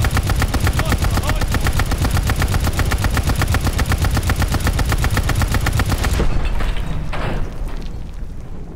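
An allied turret in a video game fires a long, loud, rapid automatic burst of evenly spaced shots, then cuts off abruptly and leaves a fading rumble.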